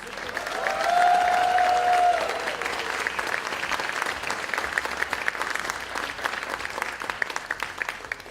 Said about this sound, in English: Let's give Melanie and the entire committee a huge round of applause.